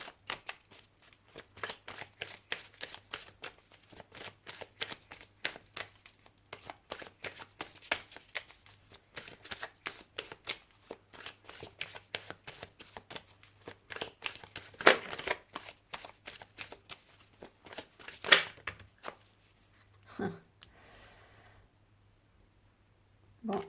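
Tarot cards being shuffled by hand in quick, steady riffling and slapping bursts, close and fairly soft, continuing for about twenty seconds before a few slower card taps near the end.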